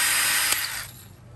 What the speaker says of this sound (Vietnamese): Nó vặn búa đỡ cho anh em khoan tường.